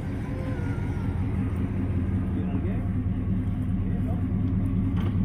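A carbureted Chevy engine warms up, a steady low idle rumble filling the scene close by while people talk over it.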